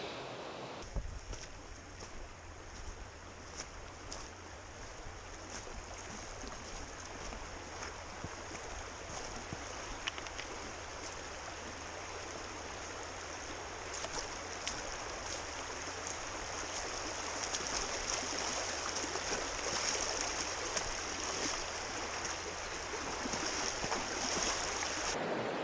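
Creek water streaming steadily in the bush at a camp, a continuous broad rushing flow that grows a little louder toward the end, with no talking.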